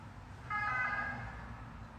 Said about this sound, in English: I think that might have been a broken ambulance.